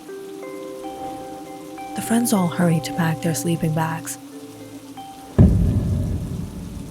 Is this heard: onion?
no